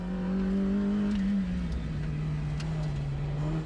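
Mazda Miata racing an autocross course at Fontana, its engine note holding steady then dropping in pitch as the car shifts or lifts, loud and close with no talk.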